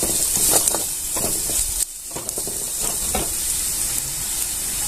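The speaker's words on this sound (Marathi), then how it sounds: "इथे मी दोन टीस्पून खोबरं घालून घेतलेले आहे ते आता छान असं परतून घ्यायचं" Grated coconut sautéing in a pan gives a steady close sizzle and hiss, with occasional scraping stirs and one brief dip in the middle.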